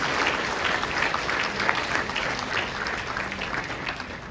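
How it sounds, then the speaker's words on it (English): A seated audience at a speech applauds for the leaders, with steady, even clapping that fills the room for several seconds. "Give him a round of applause and all those leaders."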